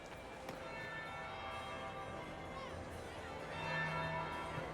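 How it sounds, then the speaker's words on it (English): Church bell ringing in the Dragon Age Inquisition video game, steady sustained chimes layered over a low background murmur of crowd noise throughout. "That would be the second bell."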